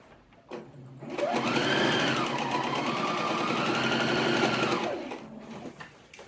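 A sewing machine runs steadily for about four seconds, stitching a seam on a slip dress, close and loud with a brief mechanical start and stop and quieter handling sounds before and after.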